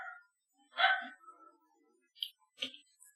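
Indoors, a dog gives one loud bark, then a few short, sharper yips, close by with quiet gaps between them.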